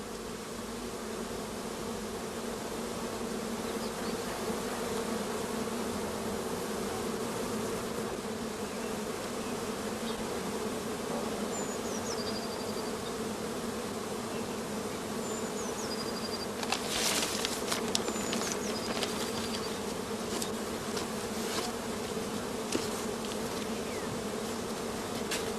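A honeybee colony hums steadily at a beehive in an apiary near allotment gardens, a dense, continuous close buzz with occasional individual bees flying past, and no voices.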